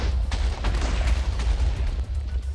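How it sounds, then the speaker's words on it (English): Bomb explosions in the Minecraft Assassins Craft mod rumble as a dense, continuous low roar with scattered crackling bursts, loud and without talk. "You saw it explode. Look at those explosions."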